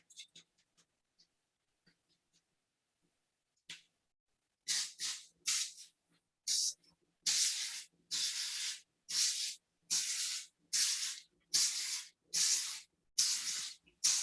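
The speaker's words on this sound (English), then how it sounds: "Now I'm going to spray them with a little bit of non-stick" Non-stick cooking spray hisses into paper muffin cups in a twelve-cup tin, in a run of about a dozen short, sharp bursts after a few quiet taps.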